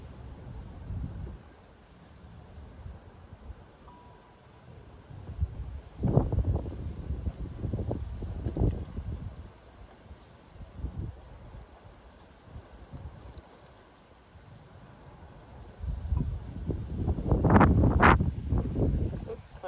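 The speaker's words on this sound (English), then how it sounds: "It's quite windy. Some of my flowers are blowing away." Wind gusts buffet the microphone outdoors where flowers are being arranged, rising in rumbling swells around the middle and loudest near the end, with rustling in between.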